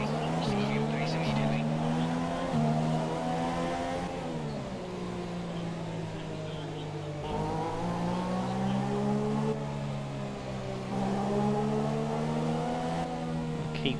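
A Formula 1 car at the Mexican Grand Prix in the F1 2017 video game runs slowly under a virtual safety car, its engine holding a steady, droning whine that rises and falls gently, with a voice talking over it.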